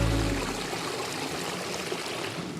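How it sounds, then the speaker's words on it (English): A small waterfall in a Washington forest gives a constant, close rush of falling and splashing water, steady throughout with no voices. "look, a little waterfall"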